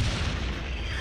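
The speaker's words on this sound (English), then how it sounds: "Then I heard a tremendous explosion and saw one of our tracks go flying through the air." A heavy artillery shell bursts close by a WWI tank in a 1916 battle, a loud, dense roaring boom that fills the whole moment without a break.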